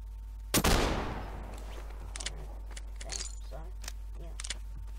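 A single loud .357 Magnum revolver shot from the M9K pack in Garry's Mod cracks out with a decaying tail, followed by faint mechanical clicks and quiet handling sounds.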